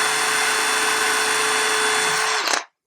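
A Dremel rotary tool bores a hole in a diorama base, giving a loud, steady high-pitched whine close by for over two seconds before it abruptly cuts off.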